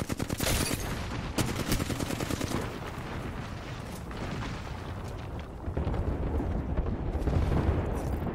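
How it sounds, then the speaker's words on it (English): Airstrike in the shooter Apex Legends, a rolling mix of rapid gunfire and heavy booming blasts, loud and dense, with a sharp crackle near the start and deep rumbling impacts building toward the end. "Airstrike."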